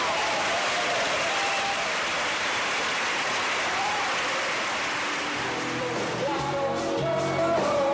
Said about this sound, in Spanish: Un espectáculo en el que no faltaron los aplausos y las ovaciones.